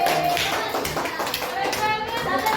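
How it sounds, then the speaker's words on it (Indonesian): A classroom group gives brief applause for a team of students, a quick burst of claps mixed with children's voices talking over it. "tepuk tangan untuk kelompok 2"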